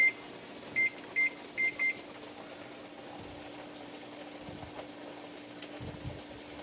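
Four short electronic beeps in two close pairs from a kitchen timer ring out over a steady hum while canning chicken and pork loin, then only the low droning background continues.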